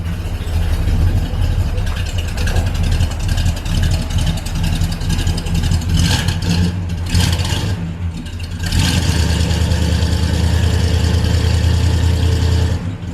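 A barn-find XC Cobra engine running after its first start in six years, a loud, close, continuous rumble that rises and falls with revving, with no talking.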